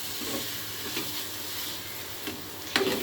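Vermicelli being stirred with powdered milk in a pan over the stove, a soft continuous sizzle and hiss with light scraping strokes and a sharper clink near the end, close and quiet.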